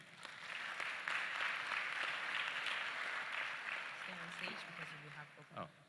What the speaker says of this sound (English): A louder round of applause, because this was a fantastic presentation